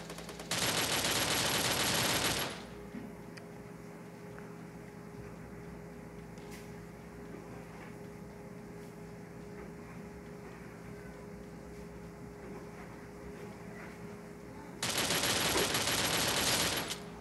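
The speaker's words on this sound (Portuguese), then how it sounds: "tem alguém atirando em mim" Rapid gunfire in the Free Fire video game: two loud sustained bursts, one at the start and one at the end, with a quieter stretch of game ambience between them.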